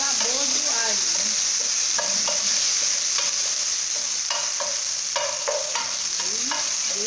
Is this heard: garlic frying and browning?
yes